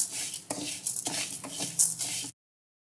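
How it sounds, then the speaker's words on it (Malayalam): Washed horse gram dry-roasting in a pan over medium flame, stirred close up with a few short scraping, rattling strokes for about two seconds before it stops. "കഴുകി വൃത്തിയാക്കി എടുത്ത മുതിര നമ്മൾ ഒരു ചട്ടിയിലോട്ട് ഇട്ട് കൊടുത്തു. ഇനി ഇത് നന്നായിട്ട് വറുത്തെടുക്കാം."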